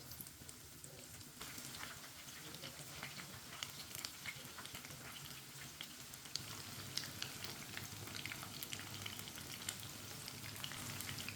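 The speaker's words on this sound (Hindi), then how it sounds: "दो मिनट के लिए पकौड़ों को पकने देते हैं।" Chili pakoras frying in hot oil over a medium flame give a steady, dense sizzle with crackling pops, close and even throughout, with no voices.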